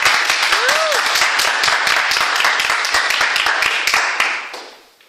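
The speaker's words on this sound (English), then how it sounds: "let's clap ourselves" Applause from a Toastmasters audience, a lively crowd of clapping hands, loud and close, that keeps a steady pace and then fades out near the end; a brief voice is heard early on.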